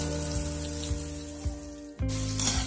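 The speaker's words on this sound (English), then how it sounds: "Fry the onion until it turns into brown color." Chopped onions frying in three tablespoons of hot oil for biryani, a continuous bright sizzle with soft crackles and a few brief bumps as the pan is stirred or touched, close and alone.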